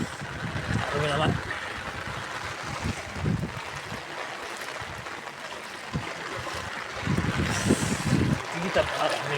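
A strong, fast-flowing water current rushes steadily as a broad, continuous wash, with people talking over it throughout.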